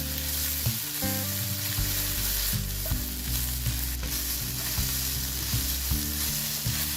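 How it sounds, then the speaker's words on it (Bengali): Jute leaves fry in tempered oil as they are stirred, a steady loud sizzle with a low tonal hum and periodic rhythmic scraping beneath, no speech. "দুই থেকে তিন মিনিট আমি শাকটাকে ভালো করে নেড়ে বাগারের তেল সাথে মিক্স করে"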